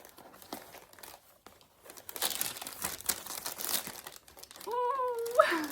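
Paper wrapping crinkled and torn off a box holding a cashmere cardigan, with bursts of crumpling and rustling that grow louder and busier, and a voice briefly heard near the end.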